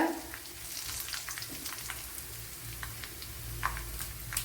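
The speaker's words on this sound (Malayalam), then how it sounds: "ഇനി വറ്റൽമുളക് ഇട്ട് കൊടുക്കാം." Dried red chillies sizzle and crackle in hot oil in a pan for okra curry, a steady close frying hiss with scattered pops throughout.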